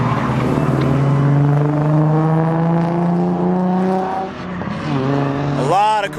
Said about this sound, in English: let's go ahead and check out some drifting